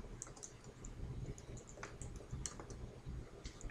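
Typing on a computer keyboard, with faint close key clicks in an irregular stream over a quiet room.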